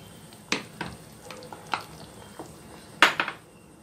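Gram flour batter being stirred by hand into a boiling vegetable curry in a pot, with a few sharp clinks and scrapes of a spoon against the vessel spaced a second or so apart, the last ones louder and clustered.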